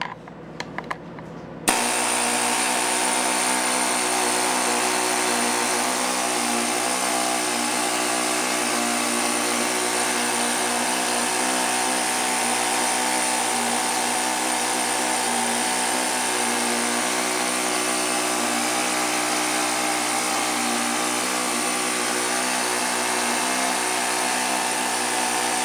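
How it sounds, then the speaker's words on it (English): A bench grinder runs continuously at close range, loud and steady with a bright high whine, as welding tool tips are rounded out; the noise holds unbroken for over twenty seconds after a brief rattle at the start. "take them to your grinder and round them out"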